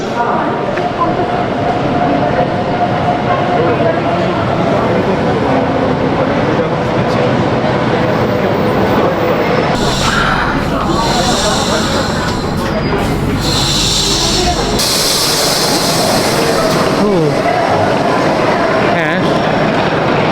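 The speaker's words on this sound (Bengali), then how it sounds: "এই ট্রেনে বেসিক্যালি আমরা স্যারমার যাব" Train to Zermatt, Switzerland, rumbling steadily along the track, heard from inside with a continuous loud running noise, occasional clacks and brief voices.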